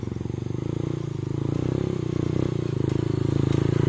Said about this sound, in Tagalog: Hindi makaahon yung motor.